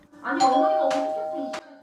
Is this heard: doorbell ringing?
yes